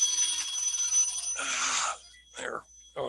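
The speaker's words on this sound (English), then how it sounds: "And the phone is ringing." A telephone rings indoors in a quiet room, with a sustained ring followed by shorter bursts.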